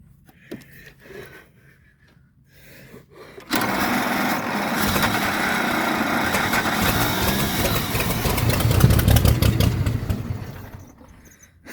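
A 1927 Pirsch fire truck engine cranks briefly, then catches and runs with a loud, rough, sputtering roar that swells before dying back down, after some quiet handling noises at the start.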